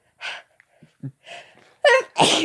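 A short pair of sneezes follows soft breathy sounds, close and fairly loud, the second burst broader and harsher than the first.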